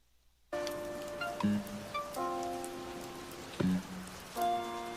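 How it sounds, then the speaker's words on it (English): Steady rain patters alongside gentle Animal Crossing music, the soft hiss of falling drops running continuously under bright, sustained melodic tones that start abruptly. "Relaxing Animal Crossing music and rain sounds."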